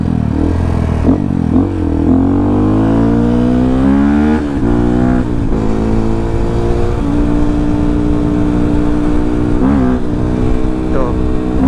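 A motorcycle with a standard piston and BRT camshaft revs repeatedly close by, its loud engine note rising and falling through several throttle blips and sustained high-rev stretches.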